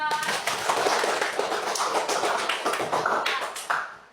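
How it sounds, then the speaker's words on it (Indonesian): A classroom of sixth-grade pupils claps for a classmate, a dense, loud patter of many hands that keeps going steadily for several seconds before tapering off near the end. "Tepuk tangan untuk muda"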